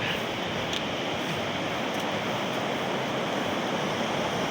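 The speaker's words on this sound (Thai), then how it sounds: "แล้วก็มีแม่น้ำไหลผ่าน" A river flows past near a hotel in a cold area of China, producing a steady, loud, unbroken rush of water with no voices.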